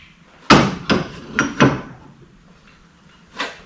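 Five sharp metallic hammer taps drive a crank pin into a jig during a Yamaha XS650 engine rebuild, four in quick uneven succession, then a pause before a final blow, close and loud.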